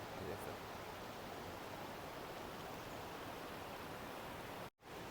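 Stream flowing near Waghbil cave in monsoon season, a dense, steady rush of running water, close and continuous, cut by a brief dropout near the end.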